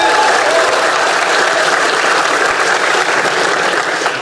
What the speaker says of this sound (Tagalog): gusto ko munang humingi ng palakpakan at pampaunang hype